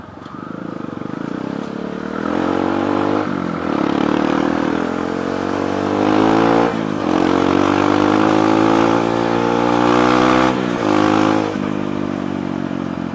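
A Kawasaki D-Tracker 150 SE motorcycle engine revs repeatedly, rising and falling in pitch in several pulls over a steady running drone, loud and close.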